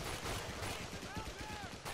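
Video game gunfire, a dense continuous stream of rapid shots under faint voices, loud and sustained with little pause.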